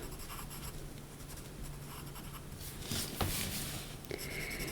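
Colored pencil rubs softly over ink on grainy textured paper, a faint, continuous scratchy shading with a few slightly firmer strokes near the end, heard close and alone.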